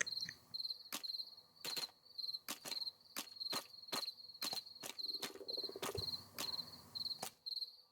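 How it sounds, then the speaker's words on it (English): Steady rhythmic cricket chirps repeat in short bursts throughout, a quiet night-insect ambience in Minecraft with no talking. "You can hear the crickets in the background."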